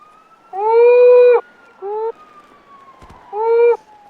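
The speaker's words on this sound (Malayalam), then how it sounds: "ഒരു സൈറൻ സൗണ്ട് കേട്ടോണ്ടിരിക്കണ്." A wailing siren rises and falls in three separate bursts, each a strong harmonic tone, with short gaps between them and a faint steady hum underneath; no one speaks.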